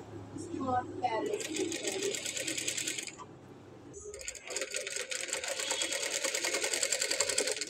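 A sewing machine stitching blouse fabric with a steady rapid mechanical chatter, pausing briefly before resuming, with someone talking over it.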